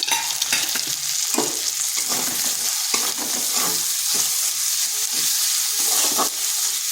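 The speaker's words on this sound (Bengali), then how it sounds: "পেঁয়াজটাকে একটু ভেজে নিচ্ছি।" A medium-sized onion frying in a pan with ginger and garlic, a steady loud sizzle broken by repeated scraping stirs, with no voices.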